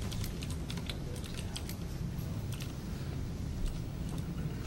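Steady, fast keystrokes on a computer keyboard as an AT modem command is typed, clicking in a continuous close rhythm over a low background hum, with no voices.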